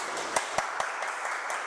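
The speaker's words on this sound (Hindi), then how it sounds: "जोरदार तालियों से स्वागत करते हैं उनका" Applause welcoming a teacher at a coaching institute event: a steady wash of clapping with a few louder individual claps standing out, moderately near.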